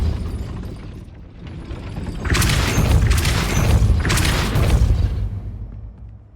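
A Depulso spell in Hogwarts Legacy slams into a gate with a series of loud booming, crashing impacts, two or three heavy bursts with shattering debris and rumble, after a quieter lead-in.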